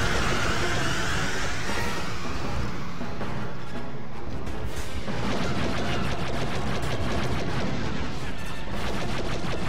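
Blaster fire in Star Wars Battlefront 2 during a battle on Mygeeto, dense and loud, with continuous rapid shots and booming blasts filling the whole stretch without pause.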